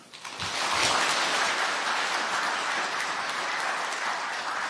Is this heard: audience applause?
yes